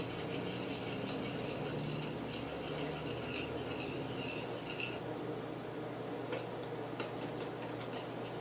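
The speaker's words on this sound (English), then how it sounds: "So I'm going to add just a little bit, stir that, let it, make sure it melts fully." A spoon stirs cheese into a garlic shrimp Alfredo sauce, giving a steady close scraping and clinking against the pan, with light metallic ticks continuing throughout.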